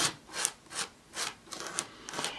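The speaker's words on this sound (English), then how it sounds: "I'm going to use my palette knife, and I'm just going to start out by just taking the back side and smoothing it along" A palette knife drawn over a stencil, spreading white paste in a series of soft scraping strokes, about six rhythmic sweeps close up with no talking.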